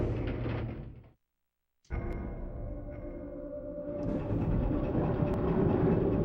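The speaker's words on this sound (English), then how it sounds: "We're gonna take the train." The Skytram cable car in Resident Evil 2 runs with a steady mechanical rumble and rattling clatter that briefly cuts out, then resumes and grows louder with a few metallic clanks.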